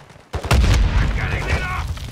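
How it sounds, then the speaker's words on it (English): A Semtex grenade goes off in Call of Duty Modern Warfare 2 DMZ at Al Mazrah, a sudden close, heavy boom with a rumbling tail, mixed with shouting voices and the clatter of battle. "Semtex out! Grenade!"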